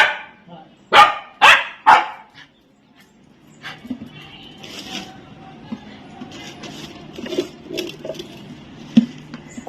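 A dog gives three loud, sharp barks in quick succession near the start, then quieter rustling, clinks and a low voice follow.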